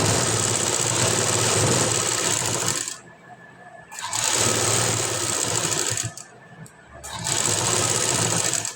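A sewing machine stitches a blouse sleeve in three steady bursts of close, loud running, separated by brief pauses.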